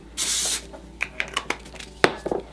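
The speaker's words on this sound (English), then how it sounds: "Quick spray of hairspray." A short hiss of hairspray from an aerosol can, followed by soft rustling and a few light handling clicks nearby.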